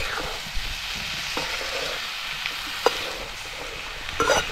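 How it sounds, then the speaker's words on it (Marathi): Dried bombil (Bombay duck fish) and potatoes stirred in a frying pan, a steady low sizzle with a few scrapes and clinks of the spoon against the pan, close and alone. "आणि बोंबील बटाटा चांगला असा मिक्स करून घ्यायचा."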